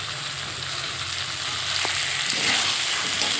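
Water poured into meat cooking in a pan raises a steady, close hiss and sizzle that grows a little louder toward the end, with a faint clink partway through.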